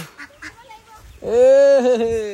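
A duck gives a loud, drawn-out nasal quack up close, after some quieter, scattered bird calls.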